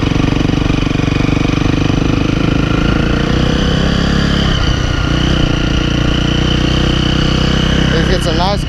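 A 2011 KTM 350 SX-F dirt bike engine idles loudly and steadily up close while running hot, with a continuous rough throb that holds for several seconds.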